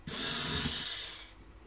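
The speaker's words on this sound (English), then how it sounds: "And you're just going to drill those in." A power drill drives mounting screws into a wood block, one short close burst of whirring that fades off.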